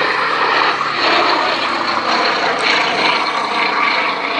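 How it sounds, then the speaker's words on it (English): Gloster Gladiator biplane with an 840-horsepower engine flying at a military air show pageant at the Shuttleworth Collection, giving a loud, steady, continuous drone close by throughout, with no voices. "at 840 horsepower in the nose of the Gladiator, giving a maximum speed of 253 miles an hour"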